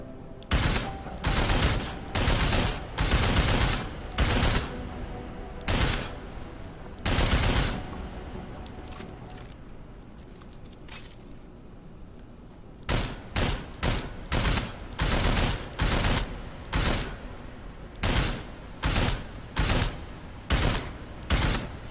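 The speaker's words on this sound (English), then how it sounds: "Combat rifle." Combat rifle fire in the Deus Ex: Mankind Divided video game, loud repeated single shots in rapid runs, a lull in the middle, then another steady string of shots, with no talk.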